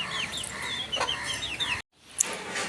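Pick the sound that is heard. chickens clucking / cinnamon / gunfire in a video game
chickens clucking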